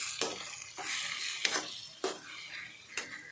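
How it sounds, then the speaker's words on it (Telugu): A spoon stirs ground paste into brinjal curry in a pot on the stove, making faint repeated scraping strokes over a soft bubbling sizzle, no voices. "ఇప్పుడు కలిపేసుకుంటే"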